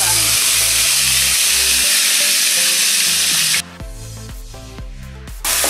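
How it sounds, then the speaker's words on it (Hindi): Mustard seeds and a ginger, onion and garlic paste fry in hot oil with loud, dense sizzling, which shifts to a softer crackle with stirring scrapes. "तेल गर्म हो चुका है, उसमें हम राई डालेंगे और अदरक प्याज लहसुन की जो पेस्ट करी थी उसको भूनेंगे।"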